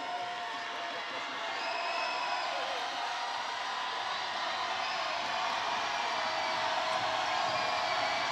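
Loud, sustained roar from a packed Mandeville crowd at a high school boys basketball playoff game, a dense wall of cheering and shouting that stays constant throughout.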